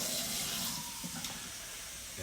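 Lukewarm water running from a kitchen tap into a cup, a brief steady splashing stream with faint background noise.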